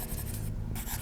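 A stylus scratches across a Paperlike 2.1 matte screen protector on a tablet in a steady, close, papery rasp. It breaks off briefly midway, then resumes, with no talk.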